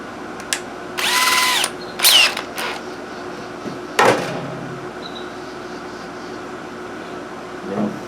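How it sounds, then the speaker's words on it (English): A handheld power drill with a Q-tip fitted in its chuck whirs in a few short bursts of different lengths, with clicks and light mechanical rattles in between. "Put it in my drill."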